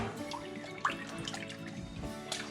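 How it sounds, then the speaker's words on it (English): Water runs and drips steadily into a sink while cured bacon is rinsed before smoking on a Pit Boss smoker. Close, continuous splashing carries a few sharper droplet splats, with no talking. "Get it rinsed. I'm sure I'll change this water at some point."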